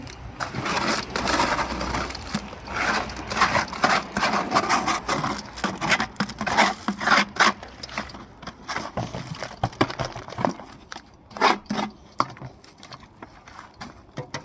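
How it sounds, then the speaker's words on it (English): Tool scraping around the inside of a bucket while mixing 2K resin and pebble aggregate, a continuous gritty rasping with uneven strokes, close and fairly loud, thinning out toward the end. "so we'll give this all a bit of a quick scrape on the inside"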